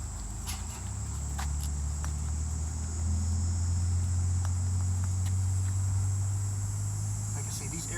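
A Corvair carburetor fuel pump being worked by hand gives a faint, quick croaking chatter over a steady low hum, with soft clicks scattered throughout.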